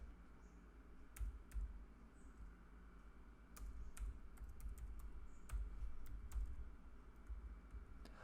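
Quick, irregular clicking of keys on a computer keyboard, steady and fairly quiet, with no voices.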